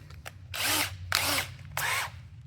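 A power drill bores a 3/16 bit hole through a quarter-inch scrap steel plate, whirring in three loud sustained bursts separated by short pauses.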